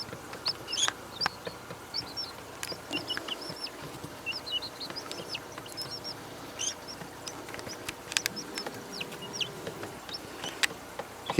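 A tiny Rhode Island Red rooster chick, about four days old, peeps in repeated high, thin chirps close by, over a low background of rustling and faint outdoor noise.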